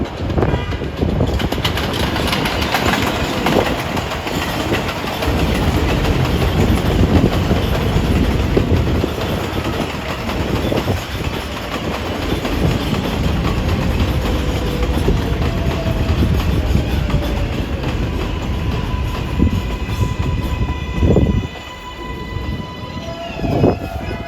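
NYC 7 line subway train running westbound on elevated track along a curve, heard as a steady loud roar with rumble and wheel clatter for the whole stretch, plus faint squealing tones near the end and no talk.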